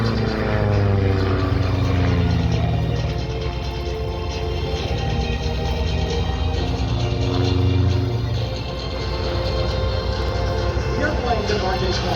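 A Super Decathlon aerobatic airplane flies at an air show, its propeller engine droning with rising and falling pitch as it maneuvers overhead. An announcer talks over the engine throughout.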